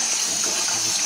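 Hot water poured over a jar of honey while making mead: a steady, close rush of pouring liquid that stays even throughout, with no talking.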